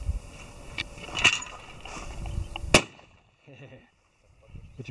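A shotgun fires at a clay target on an informal sporting clays course, several sharp near shots cracking over background chatter, one loud blast near the middle followed by quieter talk.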